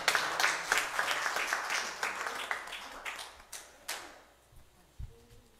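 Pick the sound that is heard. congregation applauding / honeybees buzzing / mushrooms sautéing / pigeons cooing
congregation applauding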